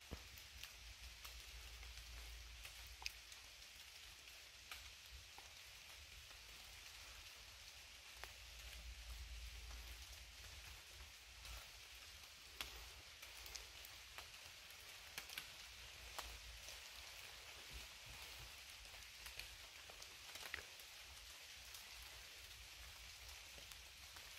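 Light rain falls steadily along a fall backcountry trail in the Western Uplands, a faint even hiss with scattered sharper drop ticks throughout and no voices.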